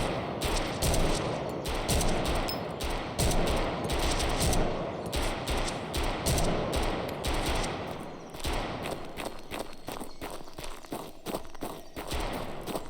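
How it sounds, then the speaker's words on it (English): Rapid, dense gunfire from enemies in the shooter Road To Vostok, automatic bursts and single shots cracking from several directions at once, loud and nearly continuous, thinning to scattered shots near the end. "Immediately getting shot at from all angles here."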